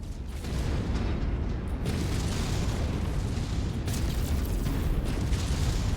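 A mech blowing up in the game MechWarrior 5: a loud, sustained rumbling explosion with heavy low-end roar and bursts of crackling debris, continuous for several seconds with no talk.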